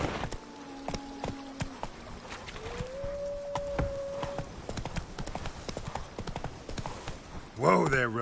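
Roach, a horse in The Witcher 3, clip-clops along in a steady hoofbeat rhythm at close range, with a brief whinny near the end and tonal game sounds layered over the hooves.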